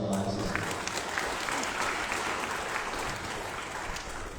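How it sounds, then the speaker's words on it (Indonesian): An audience at an Islamic banking event in Aceh applauds Pak Wisnu with steady, sustained clapping that runs the whole time, while a voice talks over it. "Kita beri aplaus buat Pak Wisnu."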